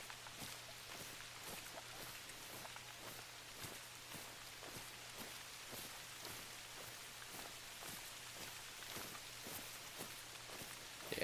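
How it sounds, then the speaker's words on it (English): Steady heavy rainfall hisses and patters across a Farming Simulator 22 hunting landscape on a soaking wet day, a dense continuous wash of drops with a faint low hum beneath, no voices. "this rain's getting really irritating"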